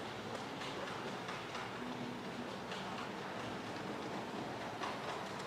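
Model railway trains run on their track in a steady, continuous rumble with faint rhythmic clicking of wheels over rail joints. No voices.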